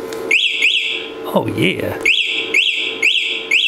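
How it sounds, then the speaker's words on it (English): Built-in alarm of an Eahora Knight M1PS electric motorcycle, a loud rising-and-falling electronic whoop repeating rapidly in close bursts, briefly interrupted while someone speaks. "this thing's got some sort of alarms built into it"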